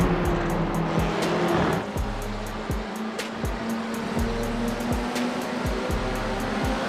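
Race cars in an e-sport racing video game, steady engine drone with repeated gear-shift drops and clicks, moderately loud and without talk.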